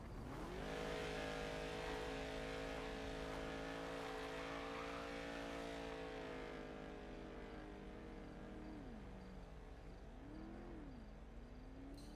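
A car in a GTA roleplay video game drives steadily with a loud, close engine drone that rises and dips as it shifts and revs, with no talking.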